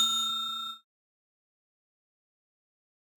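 A short bright notification ding rings out with a few quick metallic chime pulses, then fades into silence for the rest of the moment.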